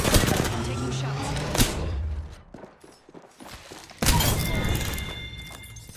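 Shots ring out in a first-person shooter game, loud close cracks and thuds with a sharp impact, a quieter gap, then another burst of fire, with a voice speaking over part of it.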